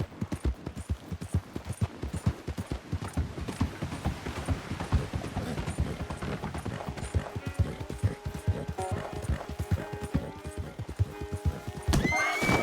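Horse in Red Dead Redemption 2 whinnying and neighing over a steady, busy clatter of hooves, loud and close throughout, with a sharper burst of noise near the end; no talking.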